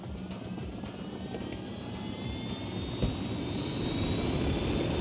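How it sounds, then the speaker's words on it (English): A helicopter in the Ghost Recon Wildlands video game gives off a continuous engine and rotor roar that grows slightly louder toward the end, heard alone without speech. "We'll need that chopper."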